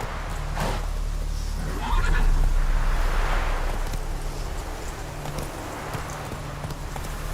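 A horse gallops in The Witcher video game, with steady clip-clop hoofbeats under a constant low rumble, plus a brief whinny-like sound near the start.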